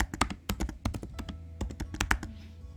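Rapid keystrokes on a computer keyboard while data is entered into the fields of an online applicant form, arriving in quick irregular bursts of close, crisp clicks with short pauses between them.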